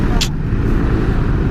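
Heavy trucks rumble along a congested road, a dense low roar close by that stays steady for a moment, with a brief hiss near the start.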